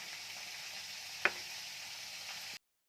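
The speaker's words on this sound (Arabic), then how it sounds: "هقلب كده في كل السمك يمين وشمال علشان اضمن ان اللحم بتاعه يكون استوى" Fish fries in a pan with a steady, soft sizzle and one sharp click partway through, heard alone without talking before the sound cuts off.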